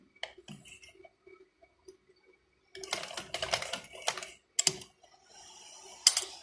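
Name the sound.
sewing machine stitching a trouser box pocket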